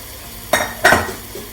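Thai-style noodles are stirred and tossed in a hot pan, two quick scraping, sizzling strokes of a utensil against the pan, close and clear, with no talking.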